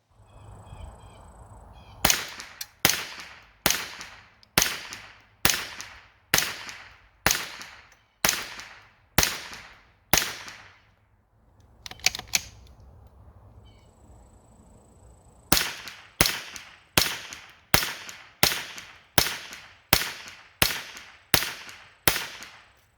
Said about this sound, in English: In our final round of fire for today, we're going to be using that Fiocchi Official 320.